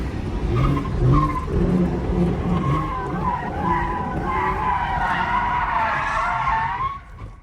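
Lexus IS300 drifting on a street, tires squealing in a long continuous skid with a rising, wavering screech over a steady engine roar, heard from inside the car, close and loud, fading at the end.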